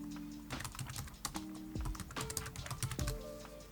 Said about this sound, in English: So passwd, type in the password.